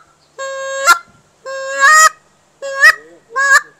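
A goose hunting call whistle blown in four separate honks, each starting as a steady reedy tone and breaking upward into a sharp cracking honk at the end, close and loud with pauses between.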